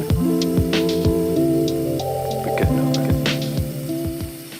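Water from a kitchen sink tap runs steadily into a basin stopped with a small plastic lid, a close, continuous pouring and filling sound with gurgling and dripping that shifts in pitch as the water level rises, with no talking.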